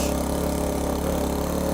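Honda C90 motorcycle engine running at high revs with a steady, continuous drone, close and loud with no break across the short span.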